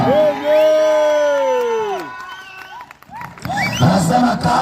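Gospel meeting crowd ululating and cheering, with long wavering high trills from several voices, then a burst of mixed shouts and whoops, loud and close.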